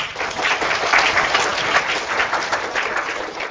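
An audience applauds after a lecture in a hall, a dense, steady wash of many hands clapping at close to moderate distance throughout, with no talk over it.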